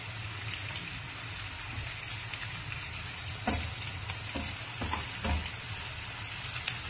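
Onion and curry leaves fry in hot oil for a chicken gravy, giving a steady close sizzle with a few soft stirring scrapes and no talking.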